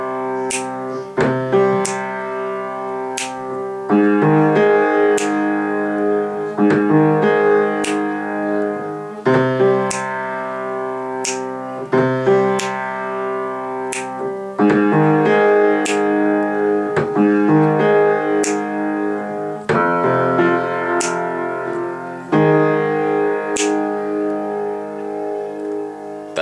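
Piano left-hand part for the introduction of a song: low notes and chords repeat in a steady cycling pattern, each struck and left to ring, played alone and close with no voices.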